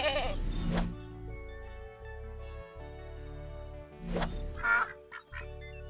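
A farm goat, part of a set of domestic animal sounds, gives two short, sharp bleats a few seconds apart. A steady musical backing plays underneath, and a brief nasal call follows near the end.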